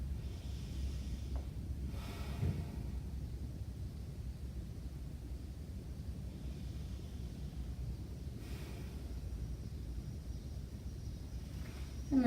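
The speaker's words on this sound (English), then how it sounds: "So rolling over to the right, taking a couple of breaths here." A person slowly breathes while lying on the right side during a gentle yoga session, with two soft, drawn-out breaths rising faintly above a quiet room hiss.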